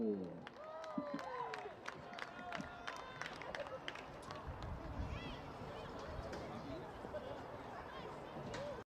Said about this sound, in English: Let's give another big round of applause for Jen Marco.